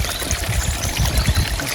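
Water pours out of a flat row of pipes into the stream of a koi pond, a steady splashing, gurgling flow close by with no voices.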